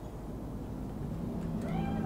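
A cat meows in the Cyberpunk 2077 video game, a short rising call near the end over a steady, loud low hum of background game ambience.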